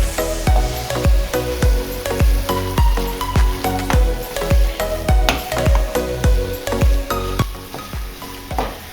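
500 grams of minced beef with vegetables frying in a pan for a bolognese ragù, stirred constantly, giving a loud close sizzle with rhythmic scraping strokes and soft thuds about every half second, with no talking.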